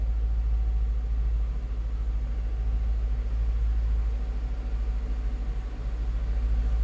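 A 2002 Ford Thunderbird convertible idles with its engine and exhaust producing a steady, loud, low rumble that holds constant for several seconds, with no voices.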